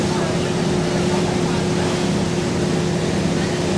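River boat on budget river transport in Thailand, steady loud engine drone with wind rushing past, continuous throughout without breaks.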